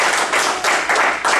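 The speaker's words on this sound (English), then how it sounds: "I will insist to give him a round of applause," A small meeting audience claps for a table topics speaker at a Toastmasters club, close and fairly loud, with the clapping coming in short bursts that swell and dip.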